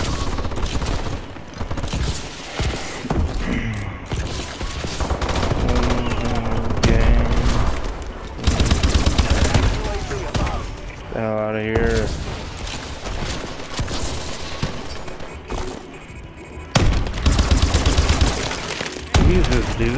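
Rapid automatic gunfire from the Ohm weapon in Call of Duty: Advanced Warfare, loud and sustained in bursts with explosive booms, mixed with game sound effects and occasional talk.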